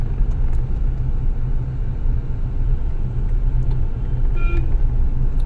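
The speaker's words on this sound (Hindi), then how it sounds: "देखिए यहाँ पे काफी ट्रैफिक भी लगता है" Busy road traffic at Garhani market in Bhojpur, Bihar: a loud, continuous rumble of engines and passing vehicles, with a brief horn toot near the end.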